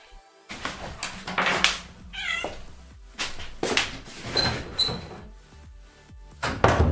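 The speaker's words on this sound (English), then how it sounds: "cats interrupt my stream" A house cat meows repeatedly at close range, several separate cries spread through the stretch with bumps of household movement between them.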